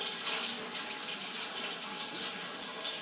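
Water running from a faucet at a clean water ministry training center, with air in the pipes, a steady, fairly loud hissing rush that continues unbroken with no talk.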